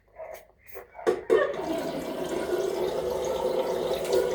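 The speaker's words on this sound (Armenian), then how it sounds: "մի քիչ ջուր արա, նոր լվա" Tap water runs steadily for washing, starting after a few brief splashes and knocks, then a continuous, fairly close hiss and splatter into a basin, with no talking.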